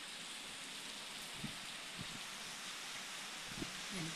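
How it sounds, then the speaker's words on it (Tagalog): Steady rain falling in a foggy mountain setting, a dense broadband hiss with a few soft drips and taps standing out, even and continuous throughout with no voices. "Ayan po, umuulan."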